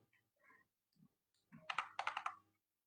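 A burst of quick keystrokes on a computer keyboard as CSS margin code is typed, a few isolated taps first, then a dense run of clacks near the mic, no voices.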